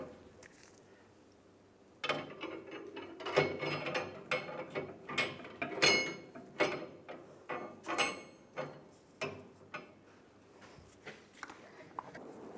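Ratchet wrench tightening U-bolt nuts over the leaf spring of a 2007-2013 Chevrolet Silverado 1500, heard as a dozen or so separate bursts of clicking that start after a quiet moment and keep going at an uneven pace, close by and fairly loud.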